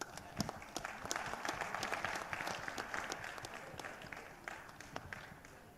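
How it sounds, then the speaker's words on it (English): Conference audience applauding, dense continuous clapping from a sizeable crowd with a few sharper nearby claps standing out, steady throughout without voices on top. "give them a round of applause"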